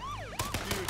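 A wailing police siren in the video game H1Z1 sweeps up and down in pitch, loud and close, cut by a few sharp thumps partway through.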